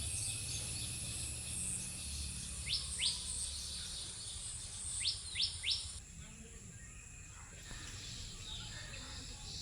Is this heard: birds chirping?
yes